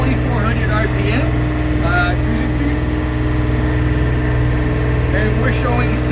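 A boat engine fitted with soundproofing covers runs steadily at 2400 RPM cruising speed, a loud, even mid-pitched drone with a low rumble, while a person talks over it.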